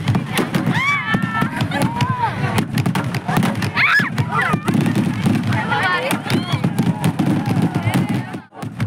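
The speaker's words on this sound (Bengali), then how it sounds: "এখন নাকি বাজি ফাটানো হবে" A fireworks display beside a pond sends out a rapid crackle of sharp pops and bangs, with loud voices chattering and shouting over the blasts throughout.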